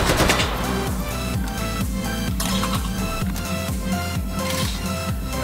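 Sustained automatic AKM rifle fire in the VR shooter H3VR, loud and close, a dense rapid rhythm of shots running through the whole stretch over a musical backing.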